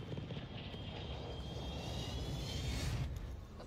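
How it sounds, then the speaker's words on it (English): A fixed-wing airplane drones steadily overhead, a loud broadband engine roar with a faint whine that holds constant through the whole stretch. "The plane is loud."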